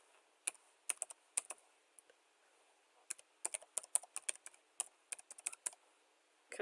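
Fingers type a website link on a computer keyboard, crisp irregular clicks of separate keystrokes in short bursts with brief pauses, close and fairly quiet.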